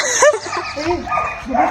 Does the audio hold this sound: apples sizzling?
no